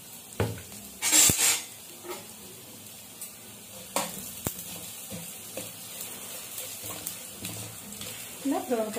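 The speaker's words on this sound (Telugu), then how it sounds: "సిమ్లో పెట్టుకుని వేయించుకుంటున్నాను." Chana dal, lentils, coriander seeds, cumin and fenugreek roast in a pan on low flame, with dry rattling stirs, light sizzling and occasional spoon clinks against the pan, while a voice speaks over it.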